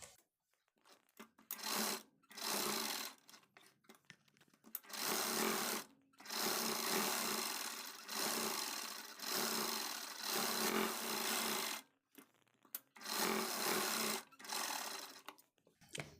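A sewing machine stitches along the edge of a blouse sleeve in loud, steady whirring runs of a few seconds each, separated by brief pauses as the fabric is repositioned.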